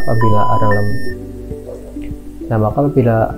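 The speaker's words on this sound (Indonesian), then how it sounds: "apabila alarm telah berbunyi, maka itu menandakan tangki 4 telah kosong" An electronic SCADA software alarm signalling an empty tank beeps in steady tones, sounding over a voice as he talks through it.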